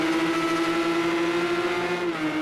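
Race cars in the Project CARS 2 video game at a classic race in Austria drone steadily through a chicane toward the final corners, a sustained engine note holding close and loud before dipping slightly near the end.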